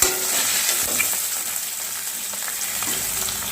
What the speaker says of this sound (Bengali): মাছগুলো ভাজা হয়ে তুলে দিচ্ছি। একদম হালকা করে ভেজে দেবো